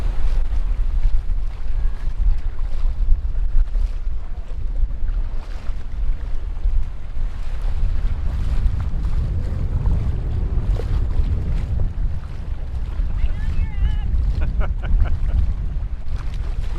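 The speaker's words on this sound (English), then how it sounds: "It is one of those days. It's windy." Wind buffets the microphone steadily throughout a choppy boat ride off Culebra in the Caribbean, with a deep rumble of engine and water beneath the rushing gusts.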